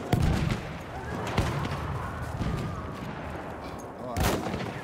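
Video game gunfire, including sniper shots, in scattered loud cracks and bursts amid a busy, noisy battle mix, with the strongest shots near the start and end.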